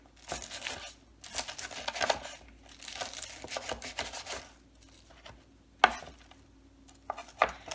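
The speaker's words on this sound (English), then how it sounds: "I'm just going to start giving it a very rough chop" Rough chopping of a pile of cooked bacon with a kitchen knife on a board, a run of close, dense rasping scrapes and cuts in bursts, then a few sharper isolated chops near the end; no talking.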